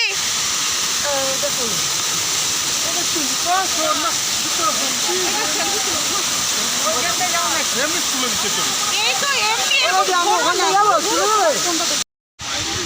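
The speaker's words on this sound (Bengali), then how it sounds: "এই ঝর্ণার যা তীব্র আওয়াজ, রীতিমতো চেঁচিয়ে চেঁচিয়ে কথা বলতে হচ্ছে" Continuous loud roar of a waterfall at Ajodhya Pahar, with a broad hiss, voices shouting over it throughout, cut off briefly near the end.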